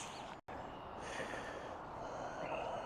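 A dog sniffing close by, with rapid, snuffly breaths and snorts running almost continuously for about three seconds after a brief silent gap near the start, with no talking.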